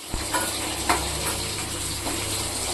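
Garlic frying in a pan for Karaikudi fish kuzhambu, a steady close sizzle with a few light scrapes of stirring over it, no talking.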